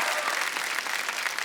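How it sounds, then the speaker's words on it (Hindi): A burst of studio audience applause on a comedy talk show, many hands clapping in a dense, steady patter. "जोरदार तालियां हो जाए"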